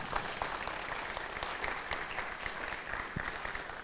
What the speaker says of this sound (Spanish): Brindamos un aplauso, por favor.